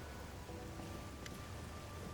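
Bloody Rain pours steadily in the fantasy role-playing game Pathfinder: Wrath of the Righteous, a dense, even hiss of falling drops that stays constant throughout, with no voices.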